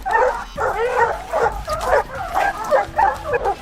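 Hunting dogs such as bloodhounds, Rhodesian ridgebacks and boar bulls bark and yip in a steady run of close, loud calls, with whimpering mixed between the barks.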